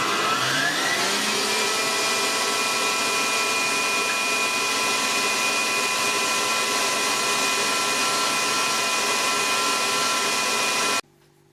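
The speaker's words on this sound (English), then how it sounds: "Right, we get whisking the egg whites." An electric whisk beats egg whites for a cherry meringue, a loud steady whirring drone held for about eleven seconds before cutting off abruptly, with no talk over it.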